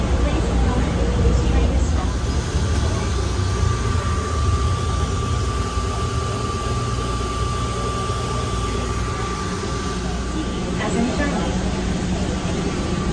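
Steady rumble and hum inside an airport terminal train in motion, a constant low drone with a faint tonal whine running throughout, fairly loud and close, with no clear speech over it.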